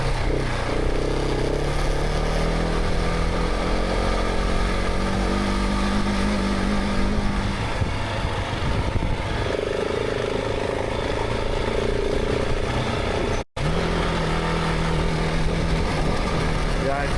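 An adventure motorcycle's engine drones steadily and loudly while climbing a rough, rocky dirt road in the Colorado backcountry, pitch shifting with gear and throttle, with wind rumble and a brief dropout near the end.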